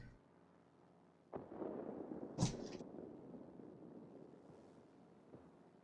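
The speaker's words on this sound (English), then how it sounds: "I've got a pair of cats playing" A pair of cats playing in a room, with a sudden thump followed by a short sharp cry and scuffling, all faint and distant beneath a steady low hum.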